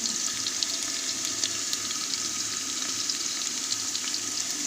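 Ginger garlic paste fries in a pan for Bangalore-style donne biryani, a soft, continuous sizzle and crackle with faint stirring, close and fairly quiet, with no talking.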